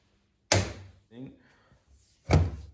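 Metal part of a Volvo TGB portal axle being carefully tapped into its housing cavity: two sharp, close knocks about two seconds apart, with a softer clunk between them.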